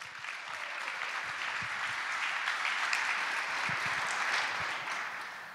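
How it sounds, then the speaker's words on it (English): Sustained audience applause at a TED event held inside Coxsackie Correctional Facility, a dense, steady wash of many hands clapping at moderate distance, holding evenly throughout with no talking over it. "Please, everybody, give them a round of applause."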